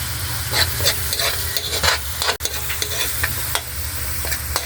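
Buttered shrimp with corn sautéing in a pan gives a close, loud, steady sizzle with repeated scraping stir strokes and hissing steam.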